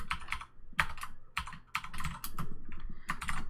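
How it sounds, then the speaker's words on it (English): Fingers type on a computer keyboard while coding, close clicky bursts of keystrokes in short irregular runs separated by brief pauses, no talking. "what I will have to do is type in then"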